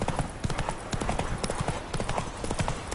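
Hooves of a galloping horse in a video game, a fast, steady clip-clop rhythm that holds up close for the whole stretch, with a faint voice in the background.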